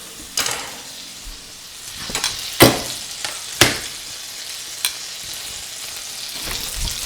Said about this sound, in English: I'm gonna toss these scallops in. Get some extra. I've got a little bit of bacon grease in there, and we're gonna add some butter.